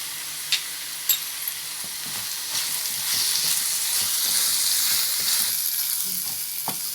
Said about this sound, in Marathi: आता टमाटर छान परतले गेले.